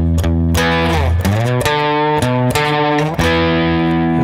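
Slow variation on a riff played on a distorted electric guitar: loud, sustained chords and bending notes in a steady, deliberate rhythm, with no talking.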